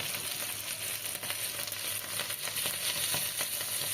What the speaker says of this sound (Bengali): তেলের ওপরে প্রথমে আমি আদাটাকে দিয়ে দিচ্ছি বেশ আদাটা দেওয়ার পরে কাঁচা লঙ্কা এবার সামান্য হিং দিয়ে দেবো